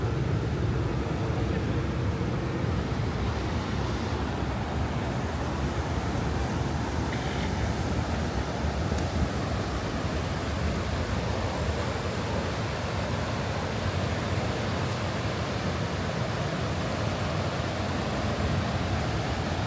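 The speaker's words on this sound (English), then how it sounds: "You can see the water's moving pretty rapidly." Rapidly moving river water above Niagara Falls rushes in a steady, loud broadband roar, with continuous wind-like noise and no break throughout.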